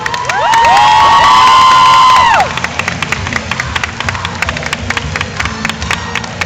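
Crowd cheering and applause at a Miss Picardie beauty pageant, loud whoops and shouts over the first couple of seconds, then lighter scattered clapping and crowd noise continuing.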